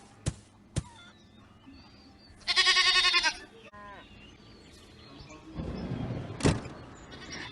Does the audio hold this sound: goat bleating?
yes